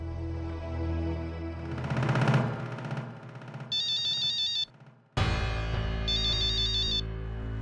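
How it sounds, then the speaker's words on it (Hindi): A mobile phone ringtone plays twice, a bright repeating electronic melody, loud and close, with a brief break between the two rings. "मानव बाबा का फोन"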